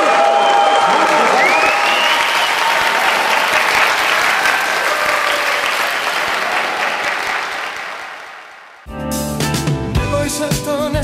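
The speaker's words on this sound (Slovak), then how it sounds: "dáme zatleskáme" Wedding guests at a Romani wedding applaud loudly and steadily for about nine seconds, a dense wash of clapping that fades out before music begins.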